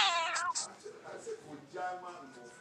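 A cat meows several times up close, with plaintive drawn-out cries mixed with a person speaking over and between them.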